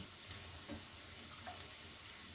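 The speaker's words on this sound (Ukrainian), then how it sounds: "І перемішую грибочки, поки в них вся от на сковорідці не випарується зовсім." A quiet, even sizzle of mushrooms frying in a pan until their liquid evaporates, with faint scraping stirs now and then; no speech.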